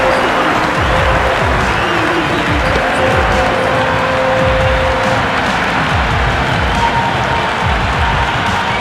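A stadium crowd in the Cricket 26 video game roars and applauds steadily after a batter hits a six, a dense, continuous wall of cheering with commentary voices talking over it.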